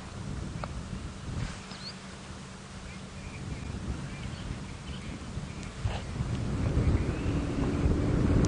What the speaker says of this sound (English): I think the wind seems to be calming down a little bit now